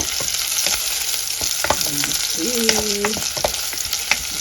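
Ginger hits a hot frying pan with a loud, steady sizzle and crackle that stays busy throughout, with a few stirring scrapes over it and no talking.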